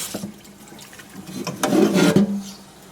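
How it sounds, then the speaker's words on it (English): Fresh water is poured into a pan during scouring, a short splashing pour that swells near the end over faint scraping and handling noise, with no one speaking. "Put a little fresh water in."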